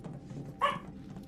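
A single short dog bark from Final Fantasy VII Remake rings out once, clear and fairly loud over a low game background.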